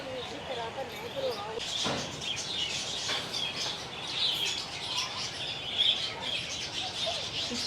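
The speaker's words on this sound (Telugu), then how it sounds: "బర్డ్ సౌండ్ ఎంత క్యూట్గా ఉందో" Love birds at an exotic park chirp and tweet in quick, scattered bursts at moderate distance amid an outdoor murmur, with people talking softly in the background.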